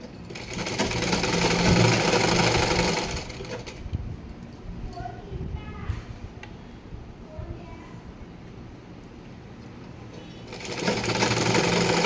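A sewing machine stitching a plain blouse whirs steadily up close for a few seconds, falls quiet through a stretch of softer handling noises, then starts running again at the end.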